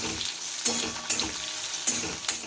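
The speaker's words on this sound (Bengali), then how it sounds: "পেঁয়াজটা একটু হালকা লাল লাল করে ভেজে নেব" Long-sliced onions frying in oil in a pan, a close, steady sizzle broken by several quick stirring scrapes.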